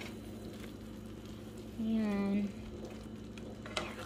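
Hamburger Helper noodles simmering in a pan with milk and seasoning mix, a soft steady sizzle and bubbling under a brief spoken word.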